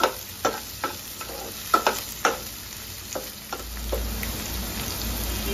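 Masala chana being semi-fried in a pan, with sharp scraping stir strokes at the start over a crackling sizzle that later settles into a steadier, softer frying hiss, close by, with no voices.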